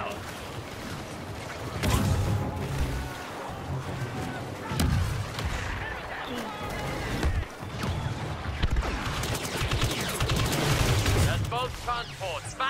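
Dense gunfire and blasts in a Star Wars Battlefront 2 galactic assault match on PS4, sharp shots and heavy booms piling up over a constant battle roar, with a player talking throughout.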